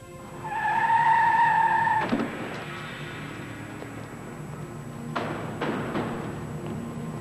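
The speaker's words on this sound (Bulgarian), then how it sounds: "Сега карай след онази проклета кола." Car in a film chase, Red Sun Rising (1994): a loud screeching tire skid that cuts off abruptly into a thud, followed by engine rumble and further thumps and brief squeals.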